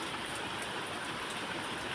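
Rain falls steadily outdoors through the day, a soft continuous hiss of drops on surfaces, even and unbroken, with no voices.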